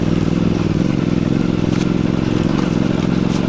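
A Voge DS625X motorcycle climbs a rut off-road, its engine holding a steady, close, loud drone with clattering and scraping from the rough ground. No one speaks.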